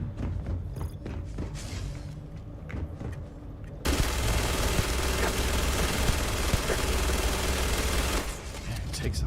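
Sustained gunfire from a Starfield firefight, a dense continuous burst of shots running loud for several seconds as a whole magazine is emptied, preceded by quieter game ambience and mechanical clicks.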